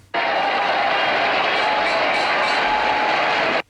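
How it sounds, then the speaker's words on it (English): A large crowd cheers and roars in a steady, dense wash of noise that starts abruptly, holds at a constant loud level for a few seconds, then cuts off sharply. "here's that stock footage here of whatever crowd this was"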